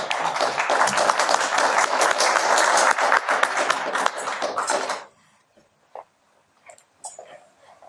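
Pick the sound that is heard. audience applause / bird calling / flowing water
audience applause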